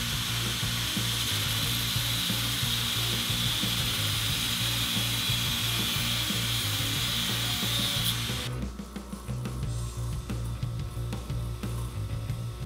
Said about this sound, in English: I'm gonna polish the steel rods with 400 grit sandpaper, followed by 4F pumice and mineral oil